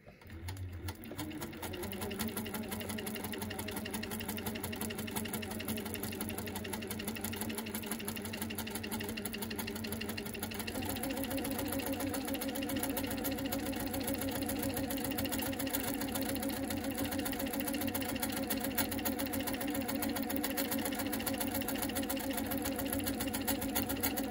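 A sewing machine runs continuously for free-motion quilting on fabric applique, its steady rapid stitching hum close and alone, shifting slightly in pitch partway through.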